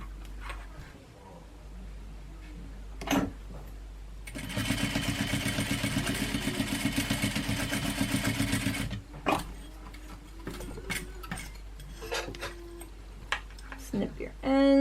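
A sewing machine stitches across suspender fabric in one steady run of rapid, evenly pulsing stitches lasting a few seconds, with handling noises and clicks before and after.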